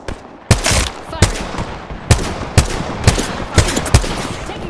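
Gunfire in Apex Legends as played by Loba on PS5: about seven sharp, loud shots in an uneven burst-by-burst rhythm over a steady battle rumble, with no voices.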